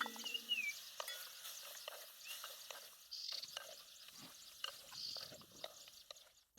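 Tomatoes go into a pan of chopped onions frying in oil, followed by a soft, faint sizzle and light stirring scrapes that continue steadily at a distance.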